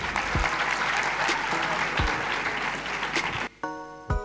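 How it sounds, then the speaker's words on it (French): Spectators at a televised school quiz match between two teams give steady, full applause for several seconds, with a few low thumps mixed in, before it cuts off and a brief electronic tone with harmonics sounds. "On applaudit les deux équipes."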